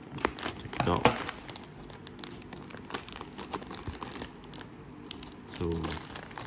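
Thin plastic packaging around a pack of Drypers Wee Wee Dry size S baby diapers crinkles and crackles as it is cut open with scissors, in close, irregular bursts with a louder rustle near the start and again near the end.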